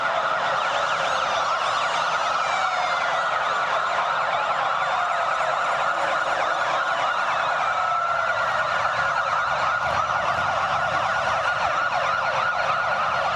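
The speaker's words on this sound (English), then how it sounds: "Is the police motorcycle unit making its way in and filling the Superdome with that sound." Police motorcycle unit sirens wail inside the Superdome during Endymion Mardi Gras festivities, several overlapping sweeping tones echoing continuously and loudly through the arena alongside crowd noise.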